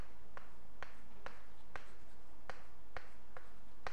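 Short sharp taps and strokes of chalk or pen on a board, about eight evenly spaced marks over a few seconds, close and quiet with no talking.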